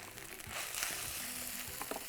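Cabbage sautéing in a pan with ginger garlic paste, a soft steady sizzle with a few stirring scrapes and clicks over two seconds, heard alone.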